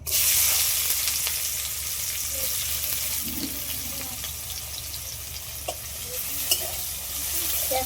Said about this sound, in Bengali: মাছ ভাজা তেলের মধ্যে দিয়ে দিচ্ছি পেঁয়াজ কুচি।